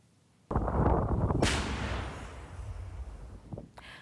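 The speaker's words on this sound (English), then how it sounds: "Shellfire explosions in eastern Ukraine were seen just ahead of the ceasefire deadline." A sudden loud shellfire blast in eastern Ukraine followed by a sharp crack and a long rumbling decay, then a few smaller distant thuds as it fades.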